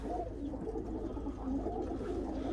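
Young pigeons raised for flying, kept in a loft, give low, soft cooing calls that roll on continuously and close by with no one talking.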